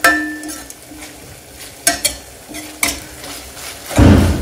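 Onions fry in oil in a pan for paneer biryani, a gentle sizzle punctuated by several sharp scrapes and taps of a spoon against the pan, with a louder stirring burst near the end.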